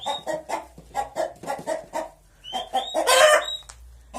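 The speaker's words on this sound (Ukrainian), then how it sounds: "Вже аж тепер вона квокає, де сиділа." A hen clucks repeatedly in a quick, rhythmic series, close and clear, then a louder squawking burst near the end.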